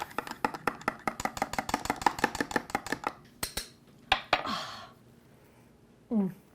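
A teaspoon stirring raw sugar into coffee, a fast run of about a dozen sharp, even clinks against a cup, followed by a few scattered taps and scrapes.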